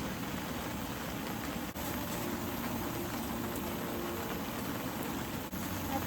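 Vegetables with butter sizzling in a pan while cooking outdoors at a winter cabin: a steady, even crackling hiss throughout, moderately quiet and continuous with no talking.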